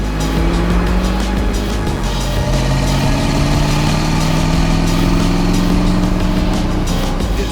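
The engine of an all-original 1965 Corvette pulls continuously up a back hill road toward Frazier Park, a loud, close, rough drone with rising tones under a wash of road and wind noise.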